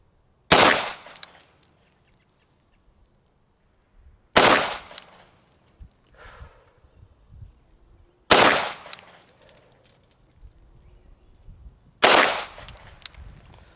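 Four loud, sharp shots from a Sig Legion pistol fired in single action mode, spaced about four seconds apart, each a close crack followed by a short outdoor echo and quiet handling noise between shots.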